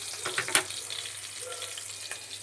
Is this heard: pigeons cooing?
no